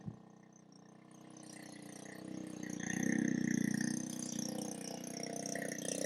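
Maple sap drawn through a pump and siphon line, a steady broadband gurgling rush of liquid with a low motorized hum that swells midway and stays continuous, close and moderately loud, with no voices.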